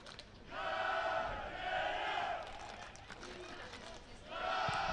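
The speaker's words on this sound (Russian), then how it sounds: "Вот слышим и болельщиков Городея" Gorodeya football supporters chant in a stadium during a Slutsk versus Gorodeya match, a loud sustained crowd roar rising in waves with a brief lull before it swells again, blended with general stadium noise.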